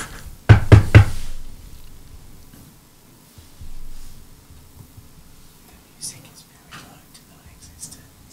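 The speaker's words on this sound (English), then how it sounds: "I knock." Three sharp knocks on a door land in quick succession close by, followed by a quiet stretch with faint rustling and soft murmuring.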